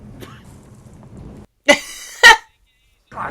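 Two sharp coughs in quick succession after a stretch of faint background noise, followed by the start of another cough.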